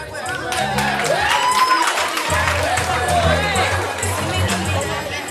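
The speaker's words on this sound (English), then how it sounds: "next we want to do a round of applause for Miss Linda" A symposium audience claps and cheers for a speaker stepping up, the applause rising over ongoing crowd chatter and hall noise for several seconds.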